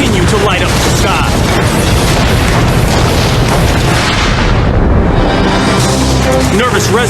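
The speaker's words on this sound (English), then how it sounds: "As night falls, the explosions continue to light up the sky." Continuous loud rumbling booms and bursting pops from munition stockpiles detonating in a chain at a flaming storage warehouse at night, a dense unbroken barrage of blasts with no pauses.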